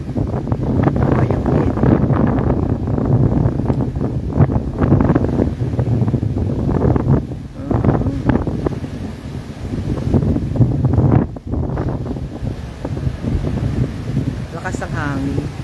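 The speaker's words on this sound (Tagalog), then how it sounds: "Lakas ng hangin." Strong typhoon wind blowing behind a house in Barangay Buangan, Torres, Marinduque, a steady roaring rush with gusts that buffet the microphone, continuous and loud while a person talks over it.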